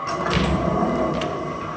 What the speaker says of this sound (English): Train stopped. Doors open.